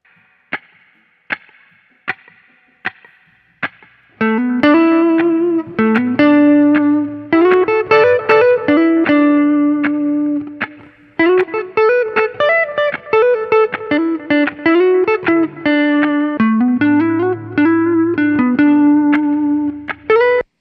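A recorded distorted electric guitar solo plays back in a studio session, a melodic lead line with sustained, bending notes over a backing, preceded by a few sharp isolated plucks; loud and continuous.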